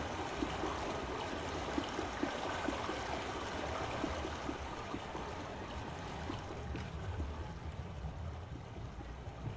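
Steady flowing stream water in a Myst remake video game, a soft, constant gurgling rush with no speech over it.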